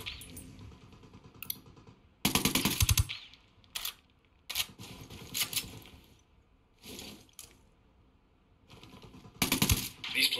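Bursts of automatic gunfire in the tactical shooter Ghost Recon Wildlands, loud and close, firing in several separated volleys with quieter shots and gaps between them, no talking.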